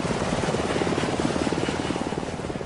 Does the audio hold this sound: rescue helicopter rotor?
yes